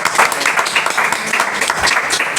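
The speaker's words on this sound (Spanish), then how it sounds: "Fuerte aplauso para ella." Steady crowd applause at a talk on Basque comics, a continuous close wash of many hands clapping with no clear pauses.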